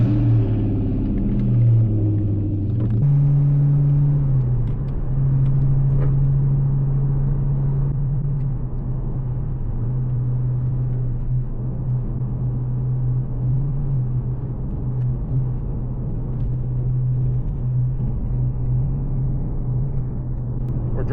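Steady low engine drone and road rumble from inside a car driving past a factory, a continuous hum that shifts pitch once early on as the engine changes speed, then holds constant throughout.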